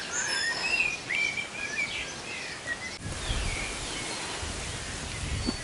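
Birds singing and chirping along a walking trail heading into a pretty little village, several calls overlapping at moderate distance over a steady outdoor hiss, with wind or rustling swelling in the second half.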